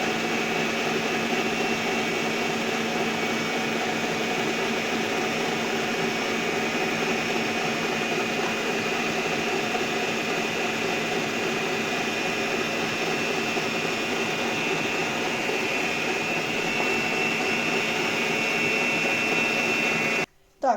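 Egg yolks with honey and baking soda are beaten together in a bowl, producing a steady, unbroken mechanical whir that runs for about twenty seconds before stopping abruptly.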